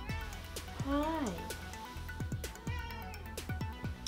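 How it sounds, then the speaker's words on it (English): A pet cat meows indoors, several drawn-out, rising and falling meows close by, with a person talking over and between them. "This is my cat."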